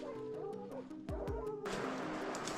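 Hunting dogs bark and yip during a wild boar chase outdoors, a few sharp barks and whimpers, followed by a burst of rustling noise.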